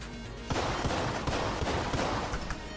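Gunfire in the video game Exit the Gungeon: a dense, continuous barrage of rapid shots and impacts, loud and busy, layered over game music with no talk.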